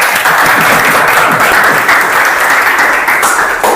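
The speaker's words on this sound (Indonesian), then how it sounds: "kita tepuk tangan untuk kita semua" Loud, dense applause from students in an Indonesian classroom during a teaching session, continuous rapid clapping from many hands sustained evenly throughout without talk.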